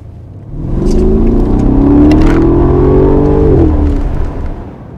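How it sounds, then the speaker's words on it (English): A 2017 Mercedes-Benz S500 V8 cabriolet accelerates hard, its loud, close engine swelling into a rising growl, holding a strong revving drone before easing off near the end, with no talking over it. "Amazing sound, guys. V8."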